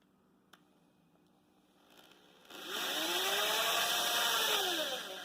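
A power drill bores a hole for a homemade DIY rod turner, starting with faint handling noises before a loud, high whining motor kicks in and holds for a few seconds, then eases off.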